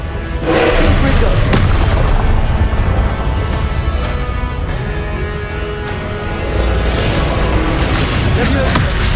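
Confringo blasting spell explosions in Hogwarts Legacy, loud booming blasts layered over a dense, continuous combat soundscape with no clear pauses.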